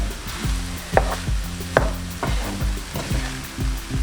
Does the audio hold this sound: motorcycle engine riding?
no